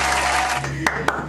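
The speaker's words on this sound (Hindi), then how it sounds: "तालियां हो जाए, तालियां हो जाए" A couple of sharp, isolated hand claps ring out near the end at a dog center, following a stretch of talk and background noise.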